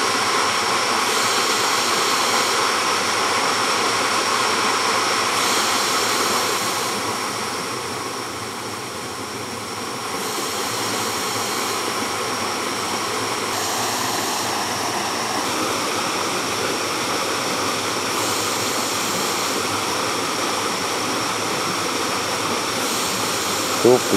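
A waterfall in Si Phang Nga National Park, Thailand, gives a steady, dense rush of falling water that fills the scene throughout, with voices faintly present.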